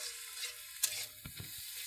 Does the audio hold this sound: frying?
yes